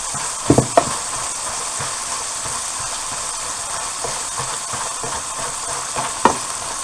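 Food fries in a pan with a steady close sizzle and hiss, broken by a few sharp clinks of a utensil stirring against the pan.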